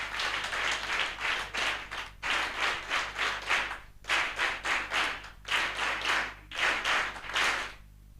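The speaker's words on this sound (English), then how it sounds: "Can we just clap for them before they come?" An audience at a hospitality institute gathering claps to welcome presenters in rhythmic bursts of hand claps, loud and near, pausing briefly between groups, with no talk over it.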